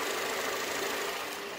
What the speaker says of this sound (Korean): 지금 엔진 소음 들려드리면은